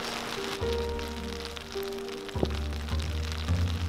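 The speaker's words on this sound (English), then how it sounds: "How much longer do you think this rain's gonna last for?" Rain patters steadily on a surface, a constant hiss with occasional louder drops and low tonal hum from nearby machinery.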